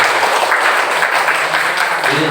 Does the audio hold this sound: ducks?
no